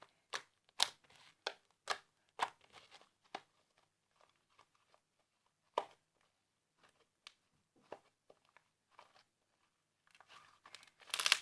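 Pink slime with a little lipstick mixed in is worked by hand, giving close, soft crinkling and squelching bursts separated by quiet gaps, with a denser run of sticky clicks at the end.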